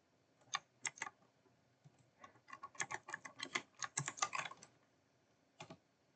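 Keystrokes on a computer keyboard come in short bursts, a few taps, then a dense run of quick typing and a final pair of clicks, close and fairly quiet with no talk.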